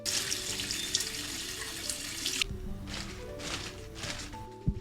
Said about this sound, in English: you always want to rinse your romaine